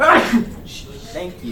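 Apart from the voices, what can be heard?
sneeze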